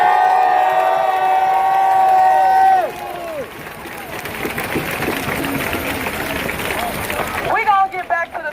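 A protest crowd outside Chicago Mayor Lori Lightfoot's house cheers and roars. A sustained tonal sound opens the clip, then gives way to a broad wash of crowd noise with shouts rising and falling.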